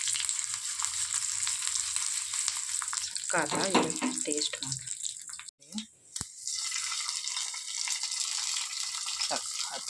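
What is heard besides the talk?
tempering of asafoetida, curry leaves and chillies sizzling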